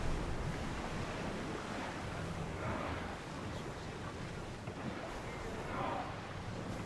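Wind and waves rushing around a ship sailing at full speed in Assassin's Creed Odyssey, a constant broad roar with swelling surges of surf, while voices speak over it.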